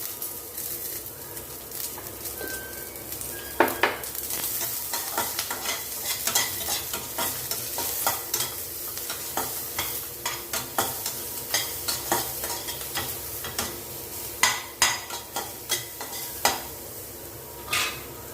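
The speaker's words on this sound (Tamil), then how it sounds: "வெங்காயம் நல்லா வதங்கி வரட்டுங்க" Onions sautéing in a pan for pear rice, with repeated rhythmic scraping and clinking of a spatula over a continuous close sizzle, strokes growing busier toward the end.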